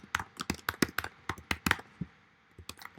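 Fingers type on a computer keyboard in a quick, irregular run of close, crisp key clicks, tapering to a few slower taps at the end.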